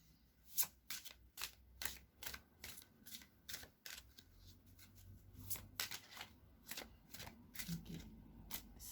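Oracle cards are shuffled by hand in a quick series of crisp riffling bursts and flicks, close and clear, with short pauses between them.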